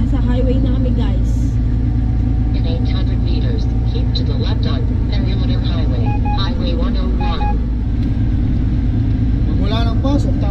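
A vehicle cruising on a Canadian highway in winter, with a steady loud low engine and road rumble filling the cabin throughout while people talk over it.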